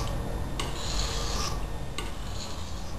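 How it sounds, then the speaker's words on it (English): A sharpening stone rasps along a long machete blade in close, rough strokes, two sharper scraping passes standing out from the steady gritty rubbing. "I'm sharpening a machete blade."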